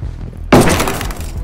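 Bulletproof glass struck in a tactical shooter game, heard as a sudden sharp hard impact with a glassy, gritty crash that rings on and slowly fades over a low background rumble.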